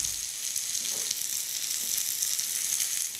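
Pork burgers sizzle steadily in a hot frying pan with a dense, close crackle and a faint stirring scrape. No voices are heard.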